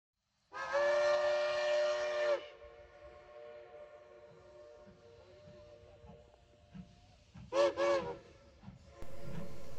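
Narrow gauge steam locomotive number 482 sounds its whistle near the original Silverton depot, one long blast followed by a shorter double toot, with a faint rumbling and chuffing train in between and a brief murmur of voices.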